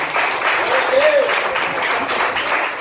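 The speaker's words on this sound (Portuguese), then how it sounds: "Você pode acima da cabeça dar uma salva de palmas para Jesus?" A church congregation claps for Jesus during an emancipation ceremony, a dense sustained applause filling the room, loud and steady throughout, with a voice speaking over it.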